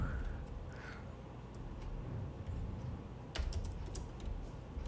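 Computer keyboard typing while editing a report layout in Oracle BI Publisher, a soft steady patter of key presses with a few sharper clicks near the end, close and quiet.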